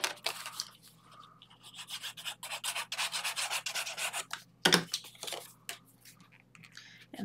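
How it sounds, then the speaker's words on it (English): Folded paper pocket for a shaker album burnished by hand, a run of steady rasping rubs close to the microphone with a sharper scrape near the end. "We are going to fold and burnish."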